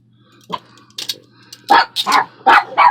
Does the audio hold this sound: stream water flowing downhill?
no